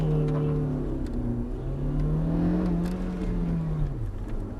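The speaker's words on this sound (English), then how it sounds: "you want clutch in, first gear, loads of revs" A car engine revs and accelerates steadily, its pitch rising and holding as it pulls away, loud and close with no one speaking.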